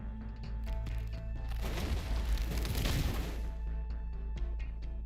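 A tree bursting from the cold in the Arknights video game, booming like an explosion: a rushing, crackling burst swells and fades over a steady low drone, with faint ticks around it.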